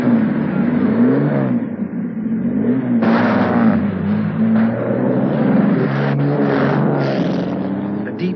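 A 1950s Jaguar D-Type racing sports car engine revs and rumbles loudly and close, its pitch rising and falling through several throttle blips.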